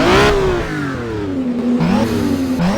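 An old car engine revving loudly close by, its pitch swooping up and sliding down in a few uneven surges over a couple of seconds.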